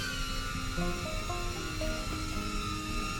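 The Potensic Firefly A20 mini drone hovers and circles indoors, its small rotors giving a faint, steady high whine with slight shifts in pitch.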